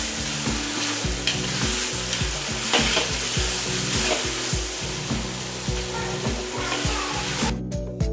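Mutton liver frying in a karahi, a loud steady sizzle with stirring scrapes throughout, close by and without speech.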